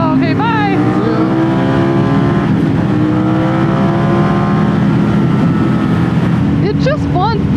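A Ducati Streetfighter V4S motorcycle roars steadily as it accelerates under riding, with a continuous loud engine drone, rising whine at the start and end, and a person talking over it.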